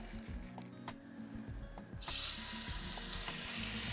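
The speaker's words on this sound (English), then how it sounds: "Nice sizzle." Faint handling noises, then a sudden loud hiss of sizzling meat in a hot pan that continues steadily.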